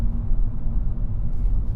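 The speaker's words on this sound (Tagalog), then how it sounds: "you will hear the 3-cylinder engine kick in" The 3-cylinder gas engine of a 2023 Nissan Kicks e-Power, running only as a generator, drones as a steady low rumble inside the cabin, constant and moderately loud throughout with no speech.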